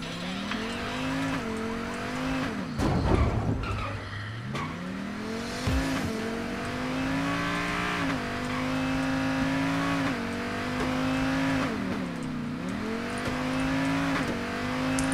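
Car in the video game Payday 2 revs and drives off, its engine rising and falling through repeated gear shifts with tire squeals, loud and close, with no talk over it.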